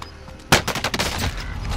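Gunfire erupts in a video game firefight. After a quiet start, a loud first shot is followed by a rapid cluster of further reports, close and dense, until the end.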